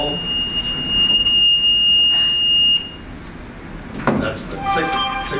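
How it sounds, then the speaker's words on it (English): A six o'clock fire alarm sounds as a steady high-pitched tone for a few seconds in a city council meeting room in Forsyth, Missouri, then cuts off, followed by room noise and a thump. "That's the six o'clock fire alarm, by the way."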